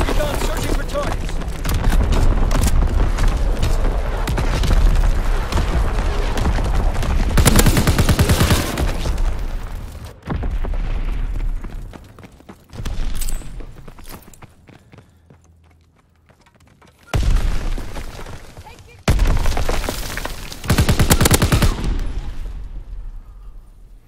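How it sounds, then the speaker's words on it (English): Artillery fire and explosions in Call of Duty WW2 multiplayer on the Aachen map. Bursts of heavy gunfire and blasts alternate with quieter gaps, and the loud stretches cut off abruptly. "Firing division artillery."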